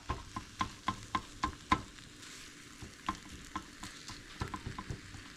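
Pan stirring over low frying sizzle, a utensil scraping and tapping in a quick run of sharp knocks, then scattered clicks as a pizza topping warms in barbecue sauce; close and fairly quiet, no voices.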